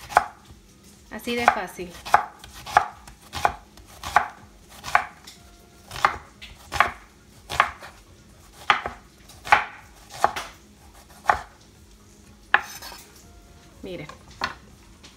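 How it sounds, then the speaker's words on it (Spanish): Half a white onion being sliced into half-moons on a cutting board, a steady series of about a dozen sharp knife chops at a regular pace, with a brief spoken remark partway through. "Vamos a picar la mitad de una cebolla blanca en medias lunas."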